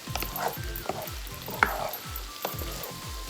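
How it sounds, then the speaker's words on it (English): Salmon frying in a pan after a brief boil, a continuous sizzle broken by repeated rhythmic scraping and stirring knocks, close and moderately loud, with no talking. "I'm gonna let them fry"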